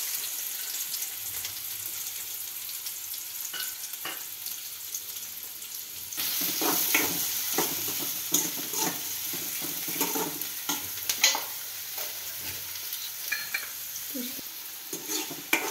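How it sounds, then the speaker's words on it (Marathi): Onion frying in hot oil in a pan for a mushroom vegetable dish gives a steady soft sizzle, joined after a few seconds by repeated close scraping and clinking of stirring. "तेल कढल्यानंतर ना त्यामध्ये आपण कांदा घालणार आहोत."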